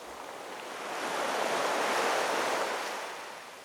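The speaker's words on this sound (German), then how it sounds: "Das Geräusch vom Meer nämlich." Sea surf washes in as a steady broadband roar that swells to a peak midway and then eases off, with no voices over it.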